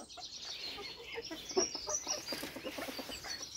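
A black Janzé hen clucks in short, repeated bursts close by, a soft run of clucks against faint bird chirps in an outdoor yard.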